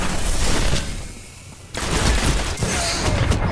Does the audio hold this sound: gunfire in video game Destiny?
yes